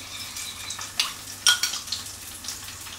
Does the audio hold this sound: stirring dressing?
yes